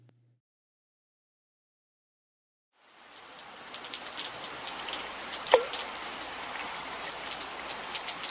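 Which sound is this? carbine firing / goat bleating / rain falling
rain falling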